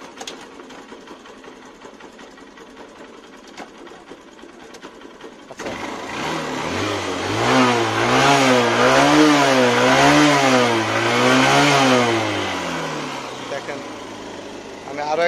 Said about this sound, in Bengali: আমি গাড়িটা একটু স্টার্ট দিয়ে দেখাই আপনাদের